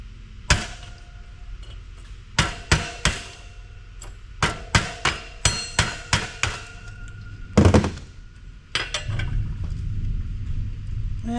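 Hammer driving a chisel to break apart a tuner amplifier for e-waste scrap, heard as sharp metallic strikes in quick clusters, one heavier crunch, then a steady low rumble of handling noise.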